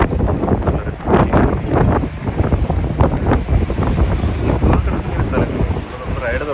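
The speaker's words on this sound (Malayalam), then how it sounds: "നല്ല തണുത്ത കാറ്റടിക്കുന്നു" Cold wind buffets the microphone continuously on an open KSRTC city ride bus in Trivandrum, a loud rushing roar with engine and road noise underneath, steady throughout.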